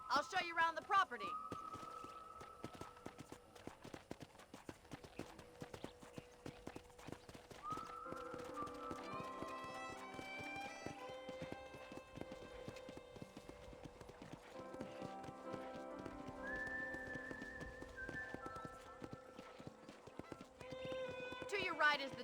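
Horse hooves in a video game, Red Dead Redemption, clop in a steady walking rhythm throughout, with people talking over them at moderate volume.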